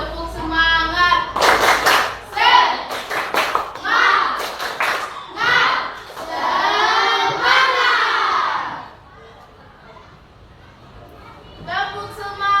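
A class of children claps a rhythmic 'tepuk semangat' pattern together in an Indonesian classroom, with bursts of unison clapping and chanted voices, then a pause before more voices.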